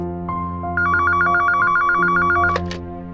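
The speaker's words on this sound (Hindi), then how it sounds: "अच्छा चलो फोन उठा।" A telephone rings loudly and steadily in a home, its electronic trill pulsing in a rapid repeating pattern over a sustained tone, with no voices.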